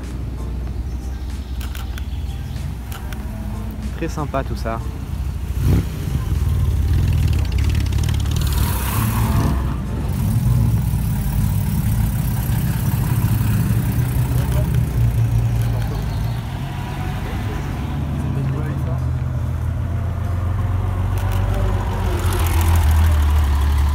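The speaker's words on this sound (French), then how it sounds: "Bon alors voilà les voitures qui arrivent." Classic cars and supercars, including a Lamborghini Miura, a Bentley and a Mercedes 300 SL, roll up in a convoy on a country-road grand tour, a steady low engine rumble with revving swells beneath intermittent talk.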